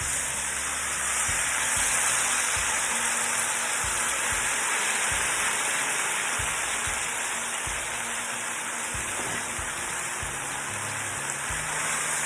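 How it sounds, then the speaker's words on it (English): Cornstarch slurry sizzles loudly in a hot pan of pepper steak beef stir fry with vegetables, a steady close hiss and crackle lasting throughout with no pauses. "as the slurry hits the pan"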